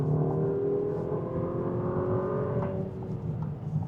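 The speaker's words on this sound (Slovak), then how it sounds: "teraz sa dostávame k špecialite tohto auta a to je motor. A predvedieme si to na predbiehacom manévri" A VW Tayron with a 195 kW 2.0 TSI turbocharged petrol four-cylinder pulls hard during an overtake, a loud steady engine drone rising in pitch from inside the car, with no talking.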